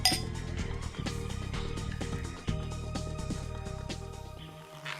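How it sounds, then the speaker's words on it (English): Glasses clinking together in a toast, giving a run of bright ringing chinks that overlap with lingering tones, close and fairly loud with no talking. "We can still clink."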